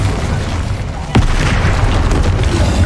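Explosive spells cast in the video game Hogwarts Legacy, heard as dense, loud booming blasts and rumbling bursts over continuous game noise, with one sharper impact in the middle.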